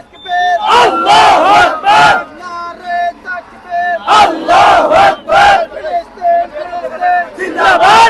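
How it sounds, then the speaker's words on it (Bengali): A large crowd at a March for Gaza rally in Dhaka chants slogans in loud, rhythmic call-and-response bursts, with short pauses between shouted phrases. "তাদের স্লোগান একটু আমরা আপনাদেরকে শোনাতে চাই"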